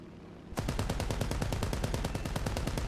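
A fighter plane's machine gun in a video game fires a rapid, evenly spaced stream of shots that starts abruptly and continues without a break, loud and close.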